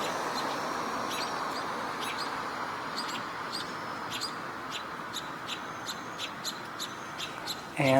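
A young bird gives rapid, thin, high chirps in bursts, faint and slightly distant over a steady outdoor background hiss, growing busier toward the end.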